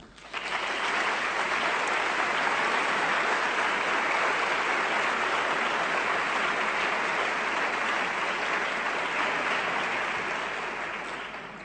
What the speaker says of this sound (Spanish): Os pido un aplauso para ellos que siguen dándonos su apoyo en este camino